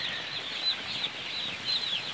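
Day-old broiler chicks in a poultry shed, a dense constant chorus of high peeping with a few brief flutters of wings, close and steady with no talk.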